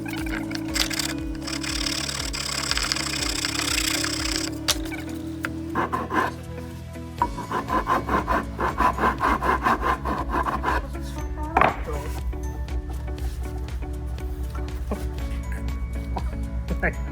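Hand file rasping pallet wood smooth, a burst of rhythmic scraping strokes close by, mixed with other workshop clatter and some knocks.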